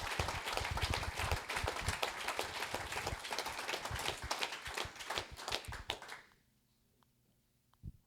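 A round of applause at a Rotary year-in-review gathering honoring Shane Harland: dense, lively clapping from a modest crowd for about six seconds, then cutting off to quiet room tone with a faint thump.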